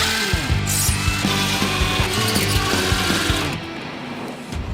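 A power tool spins out the 7mm screws holding the headlight housing on a 2015-22 Chevy Colorado, its steady whine running continuously at close range with short bursts and dips, then easing off near the end.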